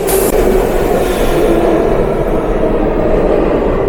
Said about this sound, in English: And that's how fancy is the New York City train.